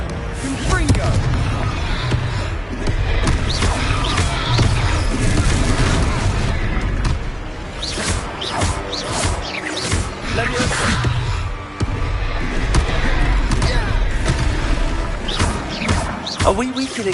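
Repeated booming blasts from the Confringo spell in Hogwarts Legacy strike amid fight clatter and crashes, loud and close, with character voices talking over the battle.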